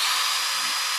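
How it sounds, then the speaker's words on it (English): A power drill runs at full speed, boring a pilot hole in the rear tailgate of a Land Rover Freelander 2, a steady high whine lasting about a second, close and loud with no talk. "Okay, so drill a pilot hole in there."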